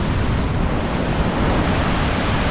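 Smaller Icelandic waterfall roaring a few meters away beside the riverbed, a dense, steady broadband rush with heavy low rumble and no pauses, loud and close with no voices.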